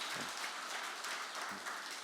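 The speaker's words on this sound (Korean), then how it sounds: "우리 위로의 박수를 좀 한번 해주셨으면 좋겠습니다." A church congregation applauds at a Sunday worship service in Pyeongtaek, giving a steady, dense wash of clapping that sounds somewhat distant and soft and fills the whole moment without any voices.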